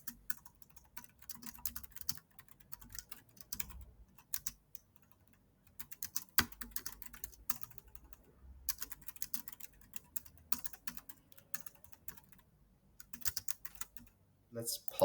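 Typing on a computer keyboard at close range, with quick clusters of light clicky keystrokes broken by short pauses, mostly quiet with sharper taps throughout.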